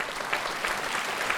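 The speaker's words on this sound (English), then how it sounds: "So let's give them a round of applause for supporting this event." Brief burst of audience applause for sponsors at an MS wellness forum, dense steady clapping at moderate level with no talk over it.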